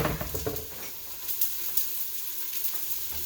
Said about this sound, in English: I'm going to add in the mushrooms and a little bit of the garlic